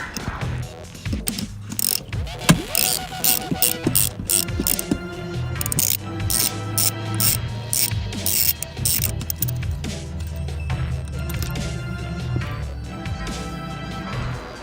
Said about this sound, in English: have enough room to get it to wrench off